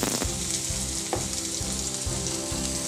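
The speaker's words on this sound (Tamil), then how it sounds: "வெங்காயம் போட்டு கொஞ்சம் நல்லா வதங்கட்டும்." Chopped onions with green chili and ginger sautéing in a pan for vegetable upma, giving a steady, close sizzle with a few brief spoon scrapes and no talking.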